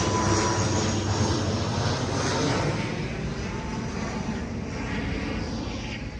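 A loud, continuous roar of an airplane passes overhead near Nedumbassery airport in Ernakulam, a steady broadband rumble filling the whole stretch and easing slightly toward the end.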